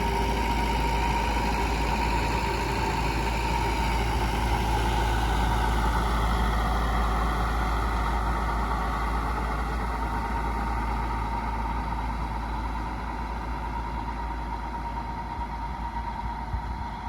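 A tractor engine drones steadily while spraying a sunflower field on a calm evening, a constant low rumble with a mid-range hum, close and continuous, fading slightly toward the end, with no talk.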